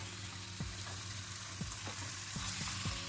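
Steady sizzling of meat frying in a hot pan over high heat, a constant crackling hiss with a few soft scraping stirs, no voices.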